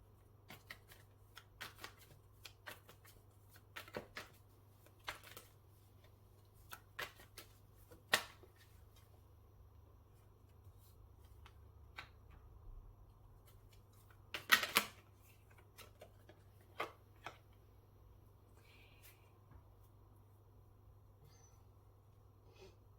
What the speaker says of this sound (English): I'm going to pull some tarot.